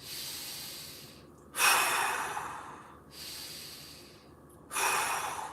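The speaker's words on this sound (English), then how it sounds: "2 more big breaths." Deep, slow breaths during a mobility exercise class, with loud airy inhales and exhales alternating in long sustained waves, close and with no talking.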